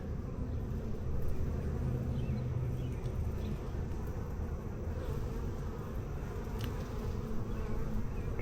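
A steady, dense hum of honeybees from an open hive during an inspection, close and continuous, with faint handling noises mixed in.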